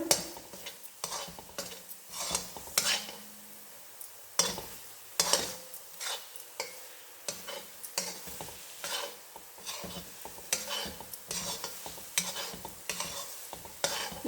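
Coconut burfee mixture being stirred in a pan, repeated scraping strokes of a spoon against the pan in an uneven rhythm over a soft bubbling sizzle, close and without talk.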